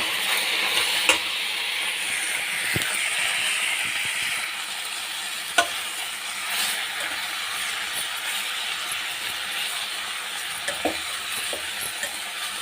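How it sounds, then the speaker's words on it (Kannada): Chopped tomatoes for tomato gojju frying in a pan, a steady soft sizzle running throughout, broken by occasional sharp clicks and scrapes of stirring. "ಹಾಕಿ ಚೆನ್ನಾಗಿ ಫ್ರೈ ಮಾಡಬೇಕು"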